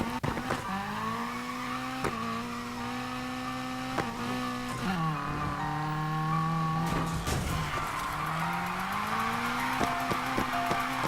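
A Honda Civic drift build in Need for Speed Heat drives with engine notes rising and falling through gear changes, while tires squeal and skid repeatedly during the slides.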